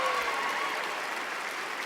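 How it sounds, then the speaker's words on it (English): A crowd applauds, a dense steady wash of clapping that carries on briefly and evenly. "A spontaneous round of applause ripples around the throng."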